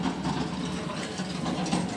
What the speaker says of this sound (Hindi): ट्रैक्टर निकल रहा है, उसकी आवाज़ है।